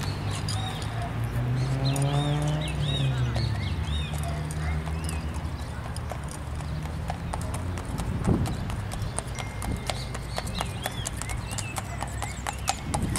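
Hooves of a calm, tame bay horse clip-clop at a steady walk on asphalt street pavement, with birds and background voices mixed in.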